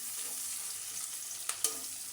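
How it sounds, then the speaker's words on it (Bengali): Sliced onions frying in a pan give a soft, steady sizzle with a couple of brief clinks from a utensil, fairly quiet and close by. "তো এই যে এখানে পেঁয়াজগুলো আমি সুন্দর করে ভেজে নিতেছি।"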